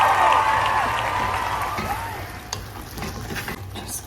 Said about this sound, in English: Just give a nice stir